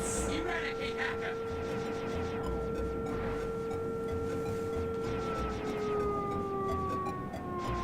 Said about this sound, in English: There's also a siren outside.